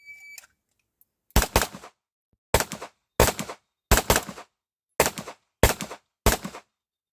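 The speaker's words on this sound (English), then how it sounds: "I also felt that last shot, gun ran empty" Handgun shots fired during IPSC Production division training, seven sharp loud reports spaced roughly half a second to a second apart after a brief quiet lead-in, each ringing briefly before silence.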